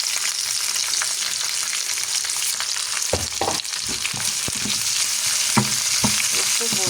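Coriander and onions sautéing in hot oil in a pan, a constant bright sizzle that grows busier midway as a spoon stirs and scrapes with irregular clicks.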